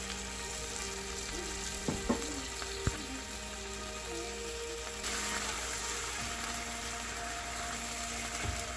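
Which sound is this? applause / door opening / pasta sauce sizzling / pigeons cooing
pasta sauce sizzling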